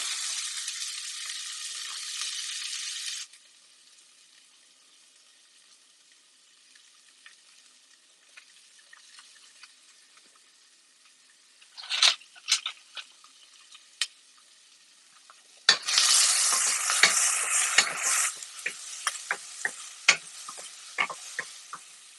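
Onions hitting hot oil in a pan for a soya chunk and potato curry, with a loud sizzle at the start, a quiet stretch with faint ticks, then a sharp burst and a sustained, louder sizzle broken by clattering stirs.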